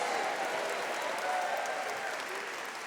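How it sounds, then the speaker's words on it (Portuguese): A church congregation applauds during a sermon, a full, continuous wash of clapping from many hands that holds at an even level, with faint crowd murmur beneath. "Pode aplaudir, pode aplaudir, pode aplaudir"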